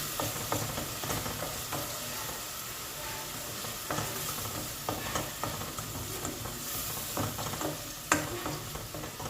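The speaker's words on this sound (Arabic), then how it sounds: "غادي نحطيوها نخليوها تشحر مزيان حتى كيبان داك البورو مزيان تماما" Butter melting and frying in olive oil in a pan, a steady close sizzle with occasional stirring scrapes and clicks, no voices.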